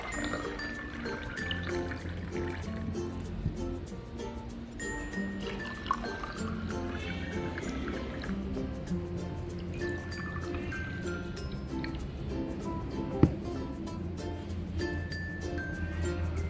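Water poured from a container into several glasses for a simple density experiment with eggs, a steady liquid pour and trickle running beneath continuous background music.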